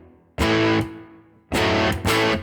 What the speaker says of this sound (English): I'm going to stick a little bit of reverb on there just to make it a little bit nicer.